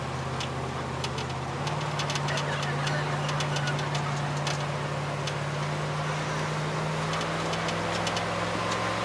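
Truck engine idling with a steady low hum and faint rhythmic knocking, continuous and fairly loud throughout, with no talk.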